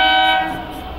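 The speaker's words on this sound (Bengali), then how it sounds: "এই দেখো ট্রেন ঢুকছে," A local train arriving at Dum Dum station sounds its horn in one loud, sustained blast that fades over about a second.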